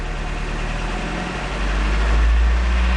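A car engine runs close by after a clutch replacement, a steady low idle that deepens and grows louder as the transmission is shifted into first gear.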